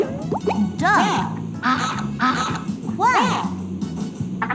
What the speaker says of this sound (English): A duck makes a quack sound.